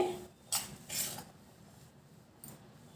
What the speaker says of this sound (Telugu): ఇలాగ అంతా మిక్స్ చేసుకోవాలండి